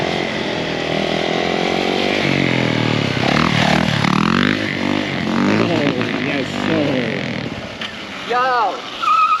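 A Yamaha YZ450F dirt bike engine revs loud and close, rising and falling in pitch during a swerve challenge run, with voices talking over it near the end.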